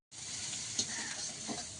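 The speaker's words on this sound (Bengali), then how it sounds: "এটাই হচ্ছে লোটে মাছ ভেজে কচু শাক কড়াইতে একটু তেল ফোড়ন করে দিয়ে দিয়েছে।" Bombay duck fish and taro greens fry in oil in a wok, giving a steady, close hiss of sizzling with a couple of brief stirring clatters.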